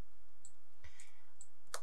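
Computer keyboard keys are pressed in a few sparse, sharp clicks with quiet gaps between them, close and fairly crisp, with no talking.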